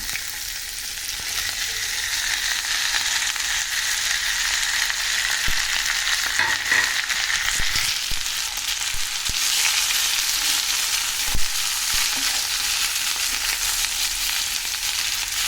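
Chopped cabbage, potato and curry leaves fry in hot oil with a continuous bright sizzle, swelling briefly as the vegetables settle, with scattered light clicks of stirring, close and alone without voices.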